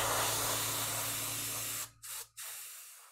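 Airbrush with a 0.4 mm needle spraying primer onto a hobby model, a close, steady hiss that cuts off, then gives two short bursts of spray before stopping.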